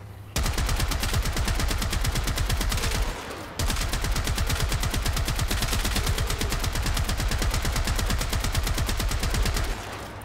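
Rapid, sustained automatic fire from the Trumna rifle in a shooter video game, loud and close, with evenly spaced shots in two long bursts separated by a short pause, with no voices.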